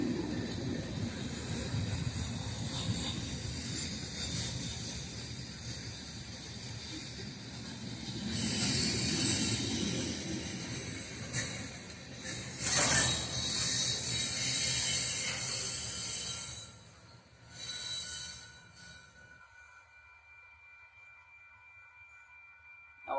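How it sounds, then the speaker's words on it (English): A long train rolls past on a main line beside a siding, a steady rumble and clatter of railcars with rising metallic squeal and ratcheting in the middle, then it fades toward quiet at the end. "Almost 6-minute train, ain't that nice?"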